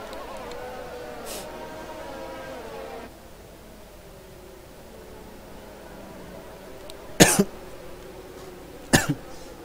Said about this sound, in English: Getting a bit of a cough there.